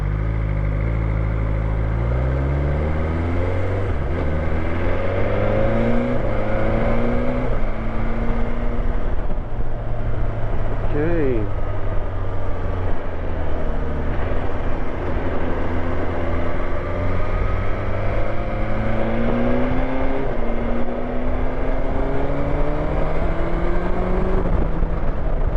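BMW S1000XR motorcycle on a test ride, its engine droning steadily and rising in pitch through repeated accelerations and gear changes, loud and continuous with wind noise, no talking.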